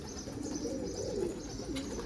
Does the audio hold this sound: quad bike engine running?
no